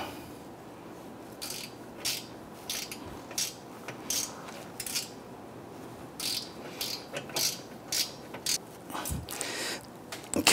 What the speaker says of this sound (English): I just switch over to my ratchet to go ahead and snug that one down